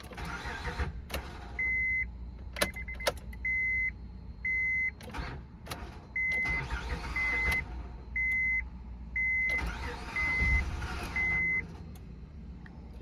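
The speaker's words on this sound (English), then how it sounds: "Let's just try cranking it." A worn 300,000-mile 2007 Honda Pilot EX cranks and tries to start, with several short starter bursts amid a loud, regular chime of dashboard warning beeps.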